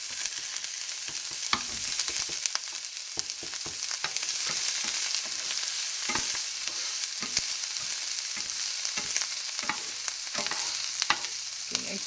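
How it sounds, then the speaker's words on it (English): Onions sauté in a pan for chicken afritada, giving a steady, close sizzle with frequent crackles and occasional stirring scrapes throughout. "we're just going to make the onions a little bit translucent before putting the garlic"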